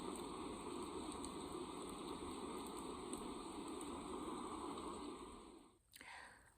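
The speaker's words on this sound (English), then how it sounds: "Oh, look, it's raining." Rain falls outside as a quiet, continuous patter and hiss that fades toward the end.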